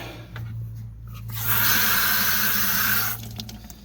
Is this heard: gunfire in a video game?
no